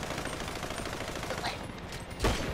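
Gunfire in GTA 5 Online: a dense continuous crackle of shots fills the clip, with a sharper, louder burst near the end.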